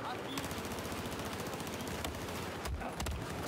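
MP7 submachine gun fire in Battlefield 4, rapid automatic bursts with a brief pause, sharp shots near the end, close and moderately loud, with a player talking faintly underneath.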